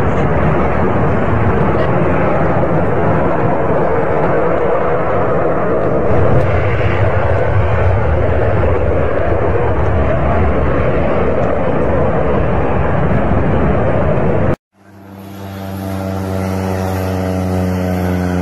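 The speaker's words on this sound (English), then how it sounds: "This plane has jet engines." A jet-engined airplane roars loud and steady, a broad continuous rush that cuts off abruptly near the end, followed by a separate tonal engine hum.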